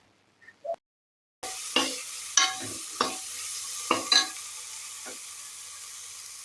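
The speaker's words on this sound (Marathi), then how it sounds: "हळद आणि मग मस्त मसाले मिक्स करून घेऊया भाजीत." A spoon scrapes and stirs through vegetables frying with homemade Malvani masala and turmeric, giving several distinct scraping strokes over a soft, continuous sizzle after a brief quiet opening.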